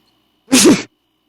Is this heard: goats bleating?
no